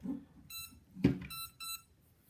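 Short electronic beep tones from the speed controller of a 1/16 scale electric 4WD racing buggy come in a few quick bursts, separated by a soft clunk and faint low noise.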